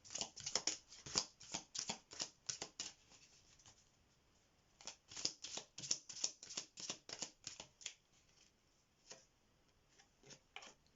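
Tarot cards are slid, tapped and shuffled on a table in quick, quiet bursts of soft papery clicks, two clusters separated by a brief pause, with no voices.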